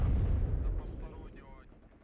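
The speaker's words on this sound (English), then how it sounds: "Artillery should smash this area." Heavy artillery fire in the WARNO war game: a loud, deep rumbling boom opens, then rolls and fades over about two seconds.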